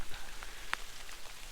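Steady rain pattering on a wet hiking trail in the Boundary Waters backcountry, a soft continuous hiss with one brief sharper drop tick, no voices.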